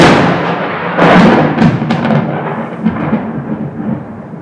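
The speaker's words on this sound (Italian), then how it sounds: "che fulmine, e che tuono. Questo è caduto proprio qui a pochi metri" A very loud thunderclap from lightning striking just a few metres away, a sharp crack followed by rolling, crackling rumbles that slowly fade, heard up close and alone.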